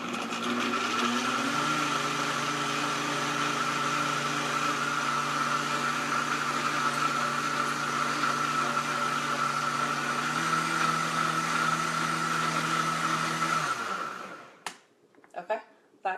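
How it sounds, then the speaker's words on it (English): A loud blender making creamy coffee whirs steadily for about fourteen seconds, then winds down and stops, followed by a couple of soft knocks. "This blender is super loud"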